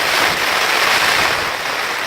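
Heavy rain pours down steadily outside in Pisgah National Forest, a dense, even hiss that stays loud and unbroken throughout with no voices.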